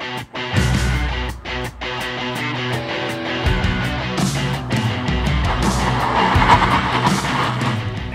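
Car braking hard on a dry test surface on Kumho Solus 4S HA32 tires, a loud sustained roar of engine and tire noise with squeal building over several seconds, no voices.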